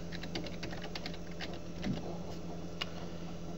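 Computer keyboard typing out a short folder name on a Windows XP desktop: a quick run of crisp, close key clicks in an uneven rhythm, with a low steady hum beneath and no talk.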